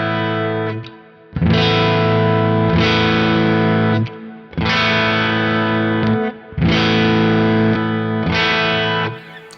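Handmade Telecaster-style electric guitar built in Iceland, strummed chords with slightly driven tone, repeated in four loud ringing bursts with brief pauses as the pickup selector moves between bridge and neck, no voices.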